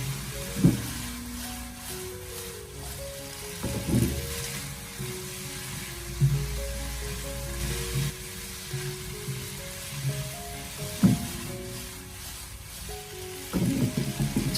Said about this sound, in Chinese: 紧接着再把青红辣椒片放进来，然后再继续的给它翻炒几下